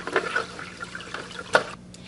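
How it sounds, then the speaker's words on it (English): Aquarium filter media gets rinsed in water just removed from a betta tank: quiet splashing and sloshing with a few brief louder splashes, close by. "rinse it in the tank water that I just removed, and then put it back in there"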